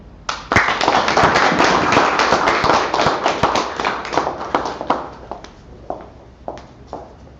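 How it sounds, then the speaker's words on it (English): Audience applause at the inauguration of Sentro Rizal in New York, a loud burst of many hands clapping that starts suddenly, holds dense and steady, then thins out into scattered claps before fading. "Let us all give a round of applause for Ms. Maria Luisa Tino Bayot."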